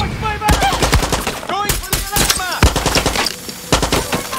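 Repeated gunfire from Far Cry 6, a modern combat game, with sharp shots in uneven bursts loud and close, mixed with a talking voice and game action throughout.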